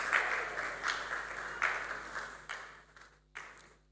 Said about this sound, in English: Please let's keep clapping as she makes her way up.